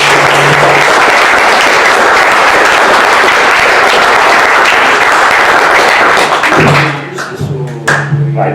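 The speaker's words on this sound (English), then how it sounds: "So, you clap, Felix comes up, that's how this works." A crowd claps loudly and densely for a poet taking the stage at a live poetry gig. The roar holds steady, then thins out near the end as a few sounds follow.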